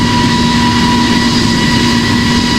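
Simulated Airbus A350 jet engines roaring at full thrust during the takeoff roll in the flight game Project Flight, with a loud, steady drone and a high whine that holds constant throughout.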